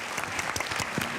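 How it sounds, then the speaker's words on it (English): A steady round of audience applause, dense clapping from a crowd that stays even and sustained throughout. "entirely a round of applause."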